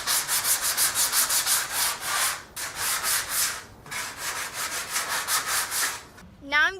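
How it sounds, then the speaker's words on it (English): Sandpaper is rubbed over a wooden boomerang in quick, steady back-and-forth strokes, close and fairly loud, with two short pauses. "I'm going to go over the boomerang in case I miss some spots."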